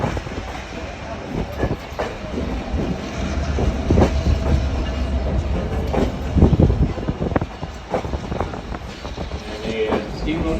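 Passenger train ride on the Lehigh Gorge Scenic Railroad behind R&N F unit diesel locomotives, a steady loud rumble and rattle of cars with intermittent clicks and clacks from the rails, continuous throughout.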